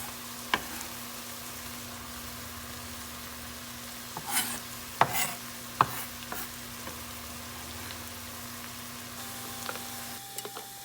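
Onions and peppers sautéing in a Dutch oven for homemade three-bean chili: a soft steady sizzle with a few scattered stirring scrapes and clinks, fairly faint and with no talking.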